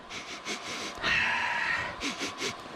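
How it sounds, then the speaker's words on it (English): Sniffing at a drone battery to check its smell: a run of short, close nasal sniffs, then one longer drawn-in inhale, followed by three more quick sniffs. "So another way that I'll find or figure out if the battery is still good is I'll give it a sniff check."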